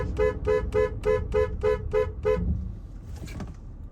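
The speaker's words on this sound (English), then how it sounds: "honk rapidly and steadily, not just one long blast" A car horn honks eight times in a quick, even rhythm of short blasts, loud and close, followed by fainter road and engine noise; given as a way to warn animals on the road at night.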